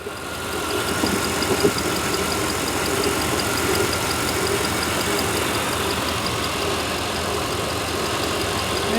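A 1993 Chevy 1500 engine, restarted after sitting for years and burning off mystery oil, idles steadily and loudly nearby with a rough, slightly knocking rumble and one small bump early on.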